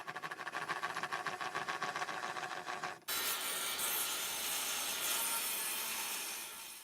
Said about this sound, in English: running it through the saw will cut it straight